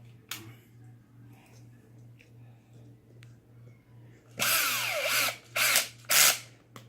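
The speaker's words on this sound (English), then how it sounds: "I like to use a drill because it's very fast" After a few faint clicks, a cordless drill on a low clutch setting whirs in one longer burst, then two short bursts, close up, driving screws into an RC beadlock wheel rim.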